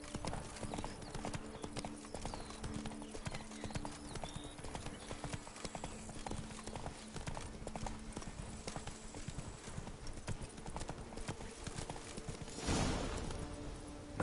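Horse hooves clip-clop steadily and continuously in The Witcher 3 video game, a close rhythmic patter over a soft ambient background, with a brief louder rustle near the end.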